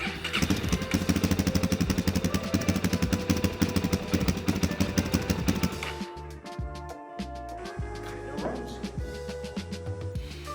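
A Suzuki DRZ400 motorcycle engine catches and runs with rapid, loud, rough firing, then stutters and drops to an uneven, sputtering idle.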